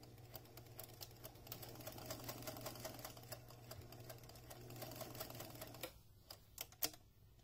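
Sewing machine straight-stitching a seam on a fabric flute mask, a faint steady rapid needle chatter with a low motor hum that stops near the end, followed by a few soft clicks.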